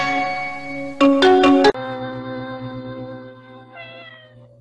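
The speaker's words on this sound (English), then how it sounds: "Zeke's little kitten, Tuxedo, has come to say hello" A small tuxedo kitten meows several times in quick succession, close and clear, against a sustained electronic jingle that plays before and after the meows.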